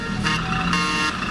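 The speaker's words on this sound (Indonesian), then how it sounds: "ini suara klakson, guys" Horn of a remote-control Mercedes-Benz Arocs 3363 8x8 truck toy, a short electronic honk sounding in two or three brief pulses, close and fairly loud.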